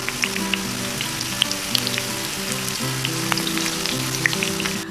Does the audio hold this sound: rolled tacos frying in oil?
yes